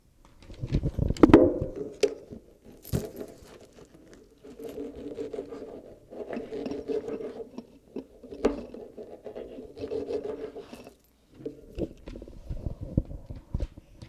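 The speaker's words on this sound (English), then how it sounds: "First, cut up your strawberry into small pieces." A knife chops strawberries into small pieces on a cutting board, giving irregular close taps and clusters of soft cuts with short pauses between them.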